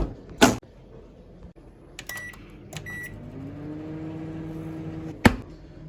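A microwave oven runs to melt rock-solid ice cream: a sharp clunk, a pair of short electronic beeps, then a steady close hum until a final loud clunk, with no talking.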